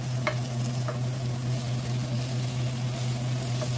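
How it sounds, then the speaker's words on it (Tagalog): Carrots, potatoes and garlic are stirred in a cast iron pan for a chicken dish, with a steady close sizzle and a few light scraping strokes over a constant low hum, no talking. "Haluin natin para at least ma-distribute naman yung garlic."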